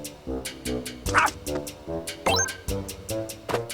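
A few short yips from Pac-Buddy, the cartoon dog in Pac-Man World 2 Re-Pac, come amid lively game music and sound effects, mid-level and partly masked.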